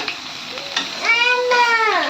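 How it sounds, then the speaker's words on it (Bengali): Cashews and raisins sizzle and get stirred in a pan while vegetable fried rice is being made, a brief bright frying hiss with scraping, and a voice rises over it. "এখানে কাজু কিশমিশ ভেজে নিচ্ছে"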